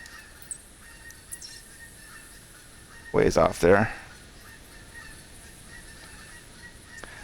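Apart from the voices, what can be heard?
geese honking, theHunter Classic video game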